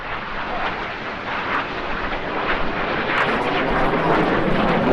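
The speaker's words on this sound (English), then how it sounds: "Each aircraft will perform a barrel roll." Display aircraft performing barrel rolls at the Eastbourne International Airshow over the seashore: a broad, roaring jet-engine rumble that swells steadily louder across the few seconds, distant but powerful, with no voices.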